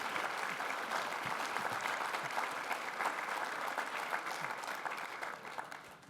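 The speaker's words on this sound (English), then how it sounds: "Round of applause for John McMannus and Michael Bell." Steady applause from a seated audience at a talk on the Battle of the Bulge, honoring historians John C. McManus and Michael S. Bell, dense and even for about six seconds before thinning slightly at the end.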